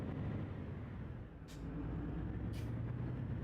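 Steady low rumble of an idling truck engine from a truck simulator game, droning evenly throughout, with two short hissing bursts like air-brake releases near the middle and end.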